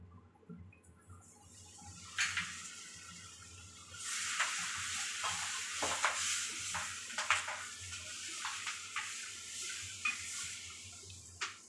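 Curry leaves dropped into hot oil crackle and sizzle in a pan, with sharp popping bursts over a steady frying hiss, close and moderately loud, without any talk.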